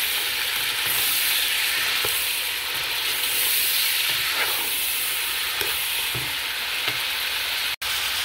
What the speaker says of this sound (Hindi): जिंजर गार्लिक पेस्ट के साथ ऑयल में गोश्त को मैंने तकरीबन 7-8 मिनट इसको फ्राई किया